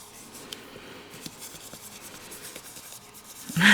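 Pencil or marker scrubbed hard into paper to lay down a lighter brown color, a steady soft scratchy rubbing that continues throughout, with a louder rustle right at the end.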